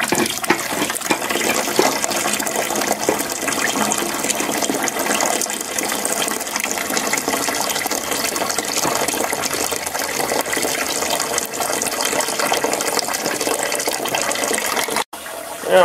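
Freshly pressed cider juice dribbling from a press into a container, a steady continuous wash of liquid trickle with faint mechanical creaks, close and unbroken, no talking.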